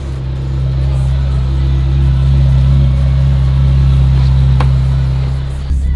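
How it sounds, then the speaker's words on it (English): Ferrari 430 with a V8 engine driving, a steady loud low rumble that holds at a constant drone before easing off near the end, with no talk over it. "Nothing like a screaming V8 from a Ferrari."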